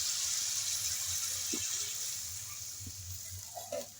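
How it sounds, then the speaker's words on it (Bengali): Water pours into a pot of rui fish curry with potato, papaya and beans: a soft, steady splashing hiss that fades over a few seconds, ending in a couple of light clinks. "এবার আমি জল দিয়ে দেবো।"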